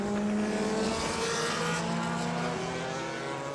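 Race cars on the warm-up lap at the 24 Hours of Le Mans 2003, led by a Chevrolet Corvette pace car with Bentleys and Audis, hum steadily with sustained engine drones and passing roar, no talk over them.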